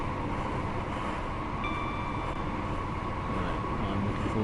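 A ScotRail BR 158 diesel unit, run as a four-car train in Train Sim World 4, rumbles steadily with a broad, continuous rolling drone and a faint high whine, close and even throughout with no talk.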